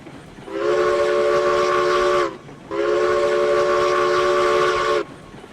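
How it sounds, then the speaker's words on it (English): A Lima steam locomotive in the game RailRoads Online sounds two long, loud chime-whistle blasts, each roughly two seconds, with a short gap between them. "Definitely feels like a much bigger locomotive"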